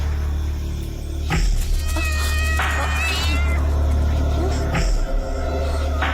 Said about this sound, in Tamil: ஆமா, இது பூனை சத்தம் தான்.